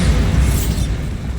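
Bombarda spell cast in the video game Hogwarts Legacy, a loud booming blast with a burst of crackling debris at the start that fades over about a second.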